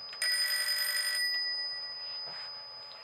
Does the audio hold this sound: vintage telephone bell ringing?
yes